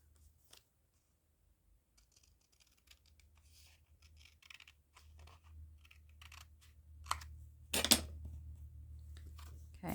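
Scissors trimming a see-through pocket, sparse quiet snips and rustles that grow busier and louder toward the end, with one sharp burst near the close and no speech.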